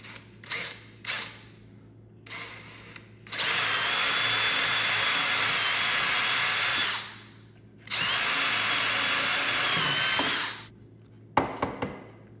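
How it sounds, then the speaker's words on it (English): A countersink drill bit on a power drill whirs loudly in two sustained bursts of several seconds each, separated by short pauses and light handling clicks, while installing a corner shower frame. "I'm going to use a countersink drill."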